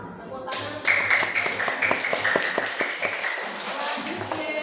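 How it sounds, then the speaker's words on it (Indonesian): A class of pupils claps hands together in a quick, fairly even rhythm of sharp slaps, close by. A teacher's voice and children's voices run over the clapping throughout. "Tepuk tangan."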